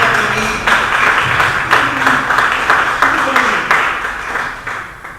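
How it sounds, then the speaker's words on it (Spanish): An audience at a film festival presentation applauds a nominee, a continuous moderate wash of clapping with pulsing swells, while a voice speaks over it. "Un aplauso para Juan"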